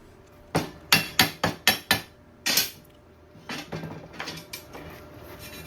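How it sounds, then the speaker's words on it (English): Sharp metallic hammer taps on a metal bracket being positioned for welding ring out in a quick series of about seven strikes, followed by a few lighter, scattered knocks nearby. "using my hammer to put it in position"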